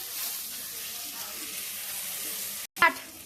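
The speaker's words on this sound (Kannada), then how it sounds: "ಇದೆಲ್ಲ ಹಾಕ್ಕೊಂಡು ಚೆನ್ನಾಗಿ ಫ್ರೈ ಮಾಡೋಣ, ಹಸಿ ವಾಸನೆ ಹೋಗೋವರೆಗೂ ಫ್ರೈ ಮಾಡೋಣ" Tomatoes, mint and spices fry in a pan for mushroom biryani, giving a soft, steady sizzle close by, then a brief silence and a quick clink.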